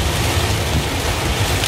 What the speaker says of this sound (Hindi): क्या मूसलाधार बारिश हो रही है एकदम